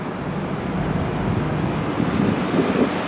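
Strong wind gusting across the open top deck of a parking garage near Busch Stadium in St. Louis, a steady close roar buffeting the microphone, with no voices.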